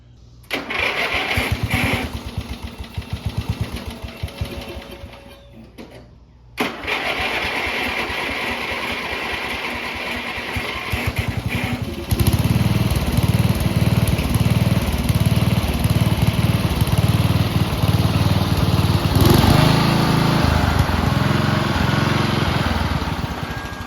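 Riding lawn mower engine starting and running nearby, a loud steady drone that roughens and grows louder partway through.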